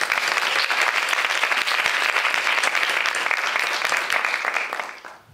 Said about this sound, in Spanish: Un aplauso para Lisa.